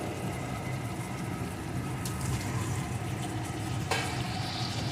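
Fried eggs stirred into masala in a pan for coconut egg korma, a steady moderate sizzle and frying hiss with a couple of brief utensil scrapes.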